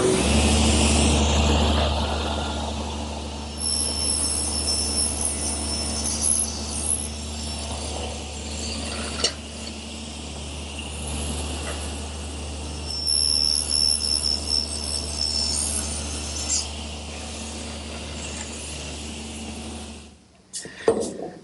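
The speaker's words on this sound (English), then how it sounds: "First, I want to make this shoulder cut at my table saw" Table saw making a shoulder cut in wood, a continuous motor whine and steady hum lasting most of the clip before spinning down at the end, heard alone without talk.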